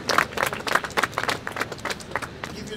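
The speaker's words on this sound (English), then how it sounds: "so if you could give him a round of applause" Audience applause at a blue plaque unveiling honouring George Pekings, a dense burst of many hands clapping close by, steady through the clip with uneven peaks and no one speaking.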